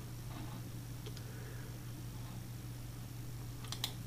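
Computer mouse clicks while selecting a download-to-Excel option for a football fixture list, a few faint sharp clicks near the end over steady low hum, no talking.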